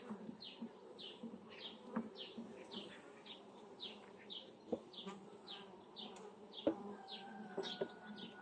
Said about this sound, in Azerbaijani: Arı indi aşağı düşür.